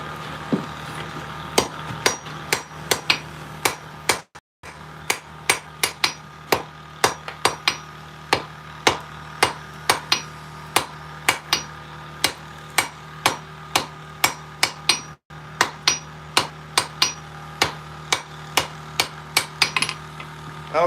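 A hammer forges a weld on hot metal while making tongs, giving a steady run of sharp, ringing blows at a fairly even rhythm, loud and close, with two brief breaks and no speech.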